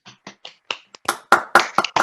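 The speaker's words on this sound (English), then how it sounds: "certainly deserves a round of applause" Session attendees at an academic methods talk clap in a scattered round of applause. A few hesitant, quiet claps build into louder, denser clapping from several people.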